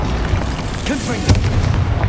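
A Confringo explosive spell bursts in Hogwarts Legacy, a single heavy boom with a sharp crack at its peak over a rumbling low backdrop, loud and close, followed by a short voice.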